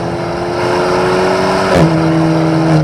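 A car running at full throttle on the wet Nürburgring in slippery conditions, its engine holding a loud steady drone close-up, with a brief shift in pitch partway through.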